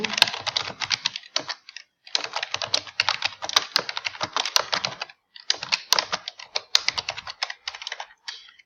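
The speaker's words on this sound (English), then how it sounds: "we're going to continue to type our heading" Steady rapid keystrokes on a computer keyboard, close and clear, typed in bursts with a short pause near the middle and another later on, no voices.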